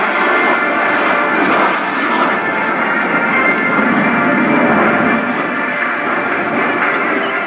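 Fixed-wing jets flying in tight formation at well over 300 knots during an air show at RAF Fairford, a loud sustained engine roar that stays close and steady throughout.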